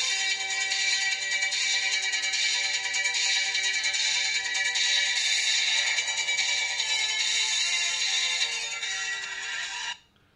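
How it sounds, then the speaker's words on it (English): The Street Hawk TV show theme song plays continuously for about ten seconds at a steady level, a dense, bright electronic track, then cuts off abruptly at the end. "If you've never heard the Street Hawk theme, I'll play it for you right now."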